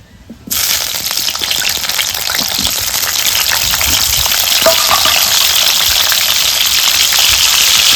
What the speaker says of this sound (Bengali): আলুটা ভালো করে ভেজে নিব নুন হলুদ দিয়ে